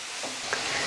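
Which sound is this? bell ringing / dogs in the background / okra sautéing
okra sautéing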